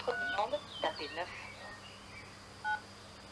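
Touch-tone keypad beeps sound inside a French automated phone menu: short dual-tone pulses, a couple near the start and one clear beep near the end, mixed with an overlapping recorded voice.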